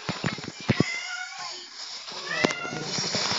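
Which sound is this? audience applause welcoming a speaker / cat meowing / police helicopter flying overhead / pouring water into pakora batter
cat meowing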